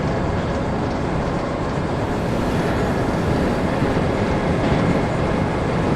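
An HR1500 series EMU runs along the snowy Sankai Main Line in a train simulator game, giving a steady, loud, continuous rumble of wheels and motors with broadband rail noise and no voices.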